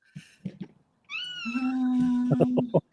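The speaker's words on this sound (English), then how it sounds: "Oh, look at the kitty cat. You might hear her talking." A cat meows in a long, drawn-out call, with short vocal sounds before it and a few brief cries at the end. Voices talk around it and a low steady hum runs underneath.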